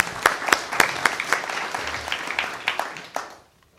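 Audience applause welcoming speakers onto a conference stage, a steady burst of clapping from a crowd that fades out at the end.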